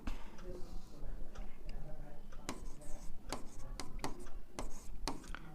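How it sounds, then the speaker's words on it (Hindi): Chalk or marker writing on a classroom board during a maths lesson: a steady run of light scratches and sharp taps, with quick clusters of clicks near the end, fairly close. "यहाँ पर हम लिखेंगे यूक्लिड"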